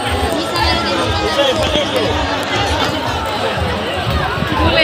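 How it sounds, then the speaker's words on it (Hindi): Packed fairground crowd by a temple, continuous close hubbub of chatter and movement with someone speaking over the din. "देखो कितना ज़्यादा भीड़ है, दिखाई दे रहा है ना, बहुत ज़्यादा भीड़ है।"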